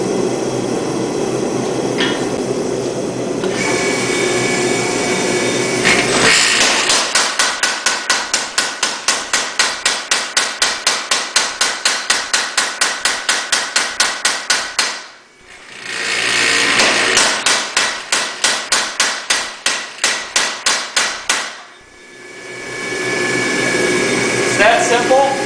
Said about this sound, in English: That allows me to hammer in the knife edge in one heat.